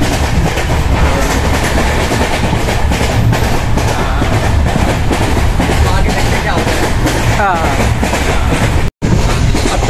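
Steady rumble and clickety-clack of the Kochuveli Express running on its rails, loud and close from inside the coach, continuous throughout with a momentary dropout near the end.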